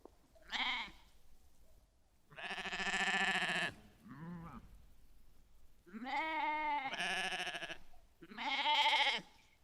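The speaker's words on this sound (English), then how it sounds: "You hear the goats" Several goats bleat in a series of loud, drawn-out, wavering calls, five or six separate cries with short gaps between them, heard clearly and nearby.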